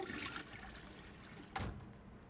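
A toilet flushing in a home, a faint rushing swirl of water that swells briefly partway through and then trickles down, quiet and close with no talking.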